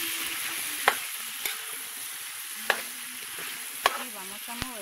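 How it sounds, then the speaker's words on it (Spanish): Chicken stew with cilantro, garlic and onion is stirred in a hot pan over a constant bright sizzle, with a few scattered utensil knocks against the pot. "Y vamos a moverlo con todos estos ingredientes"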